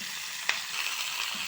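Potato pieces and spring onion stalks fry in hot oil, giving a steady close hiss with a faint sputter and one brief clink partway through.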